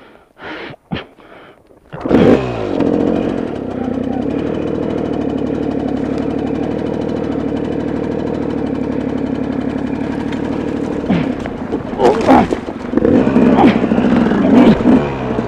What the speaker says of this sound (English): I'd rather go down with a live motor in case I need it at the bottom.